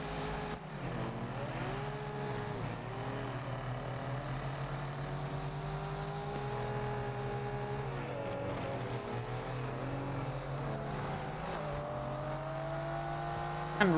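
A Mercedes SLS engine drones continuously through a race in Test Drive Unlimited Solar Crown, its pitch rising and dropping with each gear change, loud and steady throughout, with no voices.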